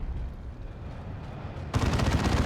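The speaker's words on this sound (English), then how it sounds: "Plasma Cannon gets a really good shot." A plasma cannon fires in the Dawn of War 2 video game. Low battlefield rumble is followed by a sudden loud, crackling blast that sustains to the end.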